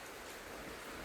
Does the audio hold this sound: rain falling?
yes